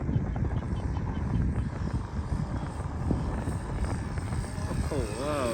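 A scale model airplane flies at a small airfield in Ayutthaya, its engine a steady distant drone with wind and outdoor background noise, while people talk faintly nearby.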